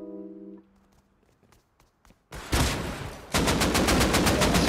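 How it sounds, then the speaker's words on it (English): Gunfire in the video game Rust, a quiet pause broken by a loud burst of shots, then rapid sustained automatic fire rattling in a steady fast rhythm. "Alright, I'm gonna shoot at him."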